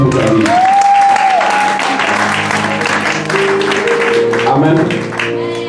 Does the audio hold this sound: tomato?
no